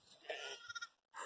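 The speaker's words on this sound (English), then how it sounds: "One of the newest little lambs." Lambs and goats bleat in short, close calls on a sheep and goat farm, a few quick cries in just over a second with some faint voices around them.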